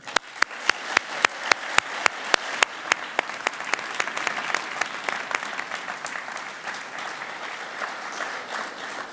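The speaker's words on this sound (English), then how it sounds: "A big round of applause for them." Audience at a national youth science contest award ceremony claps, starting with a few sharp, distinct claps that quickly swell into a steady round of applause before easing off.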